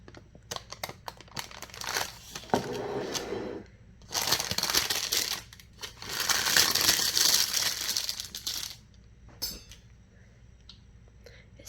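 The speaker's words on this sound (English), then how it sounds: "Oh, it's time to cut us a piece." A knife cuts a piece of freshly baked, cooled zucchini chocolate cake, giving several close, crumbly scraping and crunching bursts separated by brief quiet gaps, with no talking.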